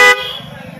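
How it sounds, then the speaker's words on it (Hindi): A single loud car horn blast from a 2022 Mahindra Bolero at the very start, cutting off abruptly and leaving a low rumbling idle beneath. "तो अभी हम हॉर्न को बजवाते हैं और आवाज़ देखते हैं"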